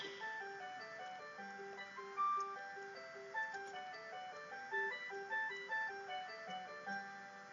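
A clock plays a bright, steady electronic chime melody of repeating high notes over a soft low accompaniment, continuous and moderately loud, with no talking.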